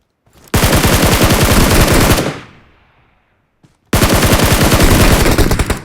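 Two long bursts of rapid automatic gunfire in a multiplayer shooter video game, loud and close, separated by a brief fading pause.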